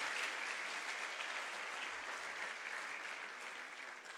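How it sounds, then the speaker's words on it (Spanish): Steady, dense applause from an audience at a regional final event in Panama, a continuous wash of many hands clapping at moderate distance, easing slightly toward the end. "Fuerte el aplauso para Cable and Wireless Panamá en sus 20 años."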